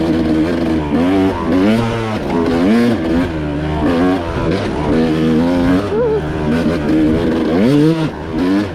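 A loud off-road motorcycle engine revs on a rocky single-track forest trail, throttle rising and falling continuously up close with no letup.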